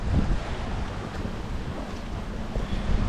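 Strong wind buffets the microphone outdoors in steady, loud rumbling gusts, with a low broadband roar filling the whole stretch and no voices.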